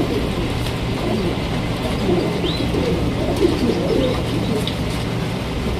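A pigeon coos in soft, low, rolling bursts amid a constant background hum and noise, the calls fairly close but partly masked.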